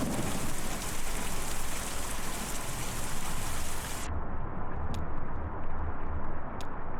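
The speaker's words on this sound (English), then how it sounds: "is the rain super loud?" Heavy rain in the video game Kentucky Route Zero, a dense loud hiss pouring steadily throughout, with low rumbling underneath and a sudden dulling of the upper rush partway through.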